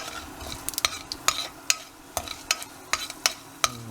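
Chana dal frying in oil for potato masala, crisp metallic clicks of a spoon stirring against the pan in quick irregular bursts over a low sizzle, close and without speech.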